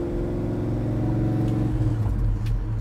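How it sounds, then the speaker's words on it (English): A Chevrolet Chevelle out on a test drive rumbles with a deep, loud engine note that swells as it revs, heard steadily from nearby. "There's one of our mechanics out test driving a Chevelle right now. Man, that Chevelle sounds good too."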